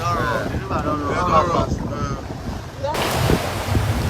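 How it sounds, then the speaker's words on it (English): Steady rush of wind and water with a motorboat engine's drone underneath on a rough river in the Niger Delta creeks, choppy and continuous, with faint voices in the background. "So we hop up back into the boat and sail off."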